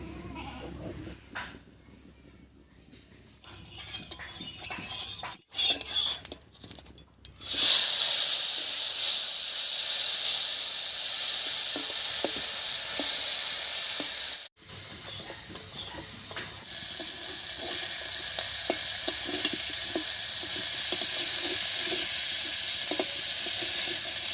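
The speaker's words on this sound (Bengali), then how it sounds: "এবার একটু হলুদ লবণ মাখিয়ে মাছটা ভেজে নেব" After some quiet clinks and handling, fish coated in turmeric and salt drops into hot mustard oil in a wok and sizzles loudly and continuously, with a brief dip partway through.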